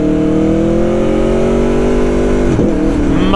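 Aprilia Tuono 1100 Factory V4 motorcycle engine revving loud and close, a rising harmonic whine that dips sharply near the end as the throttle blips, with no talk.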